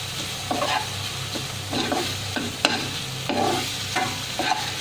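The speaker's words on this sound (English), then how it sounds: "In goes our haldi powder and a ginger garlic paste. Give it a nice mix." A spoon scrapes and stirs turmeric powder and ginger garlic paste into a sizzling beetroot and onion mix in a pan, with repeated close scraping strokes over a steady frying hiss.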